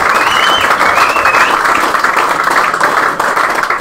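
Crowd at a 2021 Waikato men's premiership rugby match, Hautapu versus Fraser Tech, cheering and clapping as a try is awarded: a loud, sustained roar of applause that fills the whole stretch without a break.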